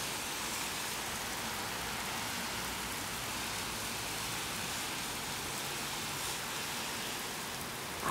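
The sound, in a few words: torrential rain falling in Lille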